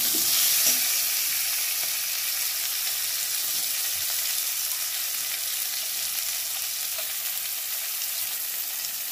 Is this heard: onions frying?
yes